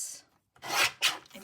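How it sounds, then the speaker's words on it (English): Paper guillotine trimming the white border from a collage image, two short close rasping slices of the blade drawn through paper after a brief silence. "I'm going to bring in my guillotine, and I'm just going to initially just trim away the white on this"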